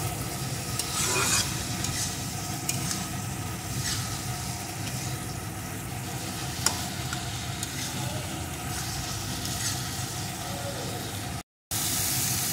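A vegetarian ash gourd curry cooks in a pan, with continuous frying sizzle and soft scraping stirs throughout, close and steady with no speech, dropping out briefly near the end.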